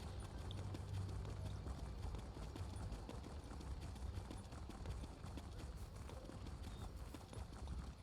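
Hooves clip-clop steadily as a horse is ridden in The Elder Scrolls Online, a fast continuous patter over low rumbling ambience. Faint talk and an occasional whinny sit in the background.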